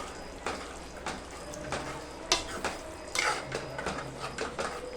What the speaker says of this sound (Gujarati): જો આ રીતે બરાબર મિક્સ કરી લેવું।